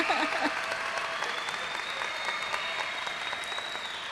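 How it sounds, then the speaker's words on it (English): An audience at a GED graduation ceremony claps for the graduates with steady applause, one clear cheer near the start and a faint voice in the background. "let's give the graduates another round of applause"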